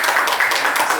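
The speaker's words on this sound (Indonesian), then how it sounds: "Tepuk tangan semuanya." A studio audience on a podcast gives a short, dense burst of clapping that stays steady and fairly loud for about a second.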